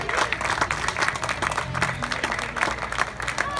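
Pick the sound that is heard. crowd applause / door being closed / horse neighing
crowd applause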